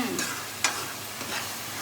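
Green chilli gravy sizzles steadily in a hot frying pan, a continuous hiss broken by a brief scrape of stirring, with no voices.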